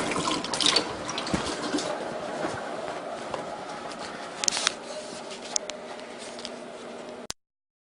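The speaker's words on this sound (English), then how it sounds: "So wash my hands." Hands are washed under a running tap, a steady close rush of water with splashes and rubbing that carries on alone until it stops abruptly.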